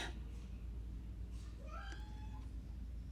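A pet cat gives a few short meows against a steady low background hum, faint and not too close.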